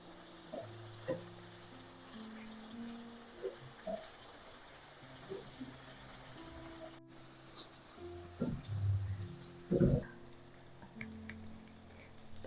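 Minced meat cutlets (qeema tikki) fry in a pan with a quiet, steady sizzle, broken by occasional louder clinks and scrapes of a utensil turning them near the end.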